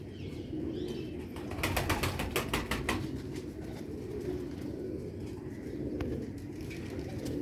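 Soft, low cooing of rare old-breed Sialkoti pigeons murmurs steadily beneath outdoor ambience, with a brief burst of fluttering wings near the start.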